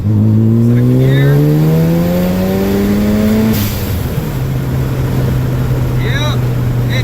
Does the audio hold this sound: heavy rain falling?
no